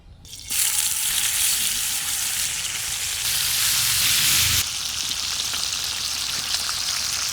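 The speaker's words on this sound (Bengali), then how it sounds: "মাছ ভাজার লাগে তেল," Rohu fish, coated in turmeric and salt, frying in a pan of oil: a loud, steady crackling sizzle starts abruptly and runs throughout, briefly swelling louder midway as the fish shifts, with no talking.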